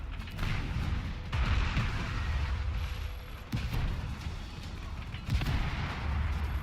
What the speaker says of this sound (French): il y a une station essence à faire péter là